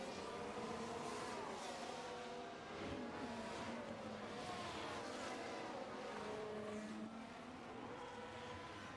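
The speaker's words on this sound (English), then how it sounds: "Verstappen's car is revving" Red Bull Formula 1 car engine revving in the garage during Dutch Grand Prix qualifying, a continuous loud high-pitched whine with rising and falling revs, heard amid crowd and circuit noise.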